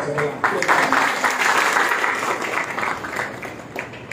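A crowd claps steadily through a political rally of the MNS party in Thane, dense and sustained applause filling the whole stretch with a few louder claps near the start.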